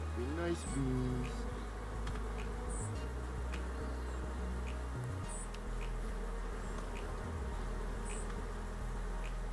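Honey bees swarm over an open hive while frames are being worked, a dense, steady, close buzzing that fills the whole stretch and stays loud throughout, with faint handling sounds mixed in.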